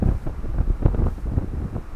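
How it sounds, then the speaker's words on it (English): Wind gusting across an English churchyard on a chilly day, a steady low rumble buffeting the microphone with irregular swells and no voices. "It's a windy day and it's a little chilly"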